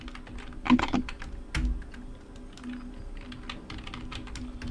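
Computer keyboard keys pressed for Excel shortcuts, giving a close run of soft clicks and taps with a couple of louder thocks early on, over a faint steady hum.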